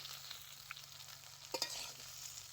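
Jujube pickle stirred lightly with tempering in a pan makes a faint, low sizzle with a couple of brief scraping strokes.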